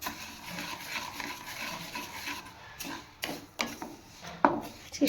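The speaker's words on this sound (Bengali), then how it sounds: "ওই ডালটা ভেজে নিচ্ছি" Dal being dry-fried in a pan, stirred with a steady scraping and rubbing at first, then a few louder knocks and scrapes of the spoon against the pan toward the end.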